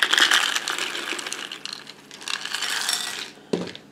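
Dry roasted peanuts are stirred into melted chocolate, making a close, busy rattle and clatter of nuts against the bowl for several seconds, ending with a single duller knock.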